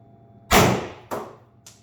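A Pepperball TCP less-lethal launcher fired through a chronograph, giving two sharp, loud pneumatic shots about half a second apart, then a fainter third report, each with a short hissing tail.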